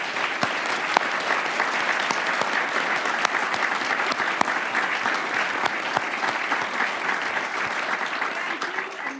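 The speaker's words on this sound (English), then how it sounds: "let's give the debaters and ourselves another round of applause" A debate audience breaks into sustained applause, dense overlapping claps from a sizeable crowd heard at moderate volume, with faint voices mixed in.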